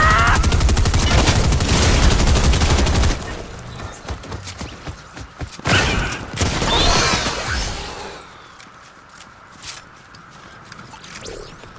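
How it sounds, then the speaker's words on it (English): Gunfire rattles in Fortnite Chapter 4 Season 4, with a loud, rapid burst of automatic shots for about three seconds, then scattered bangs and in-game rumble fading to quieter sporadic sounds. "I hear shooting. Let's get to it."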